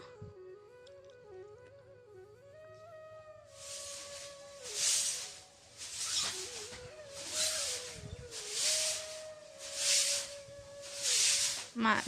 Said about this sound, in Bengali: এখন আমি ঘরটা সুন্দর করে ঝাড়ু দিয়ে নেবো